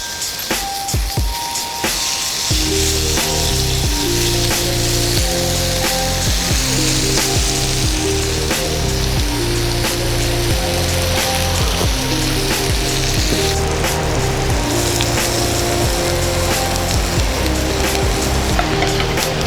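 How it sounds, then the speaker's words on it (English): Onions sizzling loudly and steadily on a hot grill while cooking for burgers, a constant crackling hiss lasting throughout with music playing underneath. "Let's start out by grilling up some onions."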